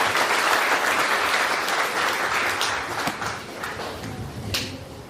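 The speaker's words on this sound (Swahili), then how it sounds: "Nataka tumpe Mungu sadaka ya makofi mazuri kwa ajili ya siku ya leo." Wedding guests break into warm applause, a dense wash of many hands clapping that stays loud for several seconds before gradually thinning and fading.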